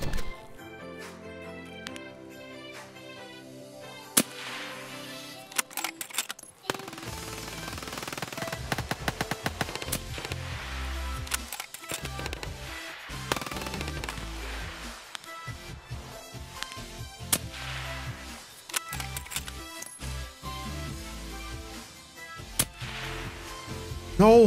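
Rapid gunfire in the video game Escape from Tarkov, with sharp repeated shots and bursts over a continuous background of game music and effects.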